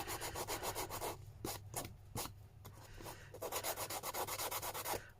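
Rhythmic rubbing and sanding strokes as the edges of a Stamperia Provence mixed-media junk journal cover are smoothed, steady scraping in close bursts with a couple of brief pauses, no talking.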